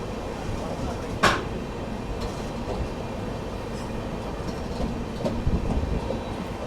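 The Mahabodhi Express runs along its tracks with a steady rolling rumble and rhythmic wheel clatter. One sharp metallic clank rings out early on, and a few louder knocks come near the end.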